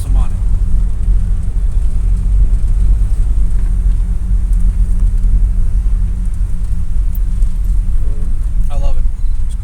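A 1987 GMC Suburban's big V8 engine and exhaust rumble with a steady low growl while cruising, continuous and close, with a person talking over it.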